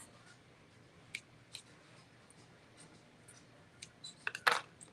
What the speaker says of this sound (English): I am going to go on and cut this.